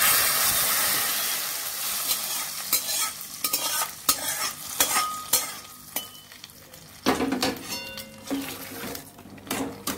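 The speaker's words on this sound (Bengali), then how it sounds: "পাঁচ ফোড়ন আর কালো জিরে আর শুকনো লঙ্কা এর মধ্যে আমি দিয়ে দিচ্ছি" Panch phoron, black cumin and dried red chilies sizzling in hot oil in a kadai, a continuous crackling hiss broken by repeated loud spatula scrapes and knocks from stirring up close.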